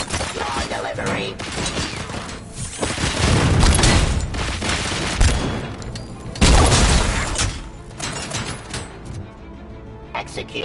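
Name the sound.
gunfire in the video game Robocop: Rogue City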